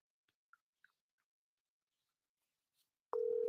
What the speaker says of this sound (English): She's ringing.